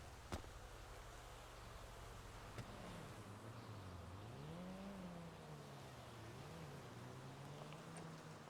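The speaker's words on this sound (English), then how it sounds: "I hear a motorcycle." A motorcycle passes at a distance, its engine a faint, low drone whose pitch rises and falls as it goes by, heard under a steady background hiss.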